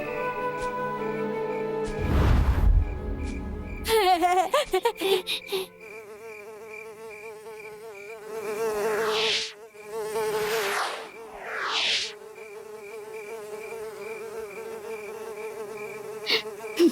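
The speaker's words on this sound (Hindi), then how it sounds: "मच्छर आ गया।" A mosquito buzzing in a Hindi cartoon, with a thin, whining drone that rises and falls as it swoops near and away, laid over a steady musical background, with a loud thump early on.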